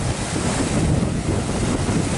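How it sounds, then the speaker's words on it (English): Big ocean waves break along a shore in a continuous loud roar of surf and spray, mixed with wind buffeting the microphone and no voices. "Those are some pretty big waves today for the ocean around here."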